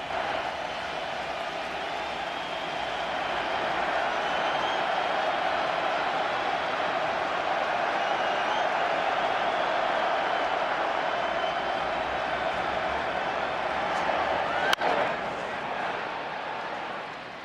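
A big stadium crowd at a Blue Jays–Mariners baseball playoff game, ALCS Game 5 in Seattle, makes a steady distant roar that swells slightly in the middle, with a single sharp crack near the end.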